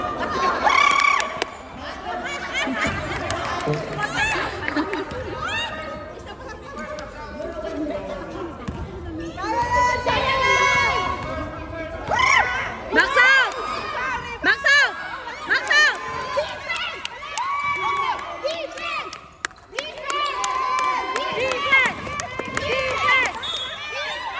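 Spectators at an under-16 youth basketball game between Infinity and Evo shout and cheer loudly and continuously, with excited voices rising in waves over the general crowd noise in an indoor gym.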